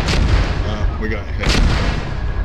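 Mortar fire in a military video game booms loudly and close, a heavy blast with a sharp burst near the middle over continuous low rumble.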